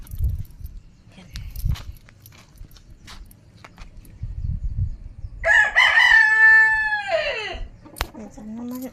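A rooster crows once in a backyard vegetable garden, a loud, clear call rising and then trailing off, heard near and alone after several seconds of quiet rustling and footsteps.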